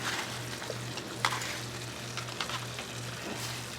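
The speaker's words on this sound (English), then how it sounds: "Now I'm going to add my tomatoes" Tomatoes cooking in a pan of simmering corn, a steady close sizzle and bubbling with occasional light clinks and stirring sounds over a low, pulsing hum.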